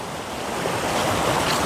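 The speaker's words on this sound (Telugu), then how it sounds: "ఇప్పుడే వర్షాలు పట్టడంతోనైతే వాటర్ అయితే మొత్తం పారుతుంది" Rain-fed stream water rushes in a forest gully, a continuous broad close roar with wind-like hiss and no pauses.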